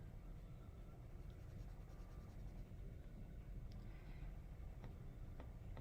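A pencil colors on paper in steady, soft scratchy strokes, a continuous faint rasp with occasional tiny ticks, close by and without voices.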